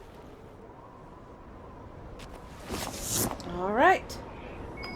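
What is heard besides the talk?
quick beeping in Dragon Age Inquisition video game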